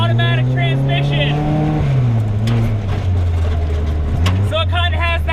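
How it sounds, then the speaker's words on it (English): A Tomcar TX 4x4 UTV's 1.5-liter gasoline engine, paired with a CVT automatic, drones loudly and close, its revs climbing, sagging and climbing again in a smooth, gearless surge with bursts of high whine, off road. "it kind of has that jet ski-like effect of the engine revving out, as the CVT doesn't really use conventional gears"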